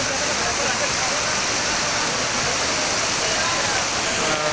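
Mountain waterfall cascading down a hillside in fine weather, heard as a loud, continuous hissing roar of falling water that stays constant throughout.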